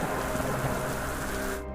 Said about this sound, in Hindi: भारी बारिश और आंधी में बाजार की तरफ निकल जाता है